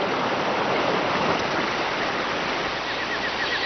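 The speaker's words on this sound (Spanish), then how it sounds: "Las aguas blanquísimas y muy frías forman primero alegres arroyos, luego riachuelos y finalmente poderosos ríos" A cold mountain stream rushes through a forest in Peru's Río Abiseo national park: a loud, dense, continuous roar of flowing water filling the whole scene, heard alone.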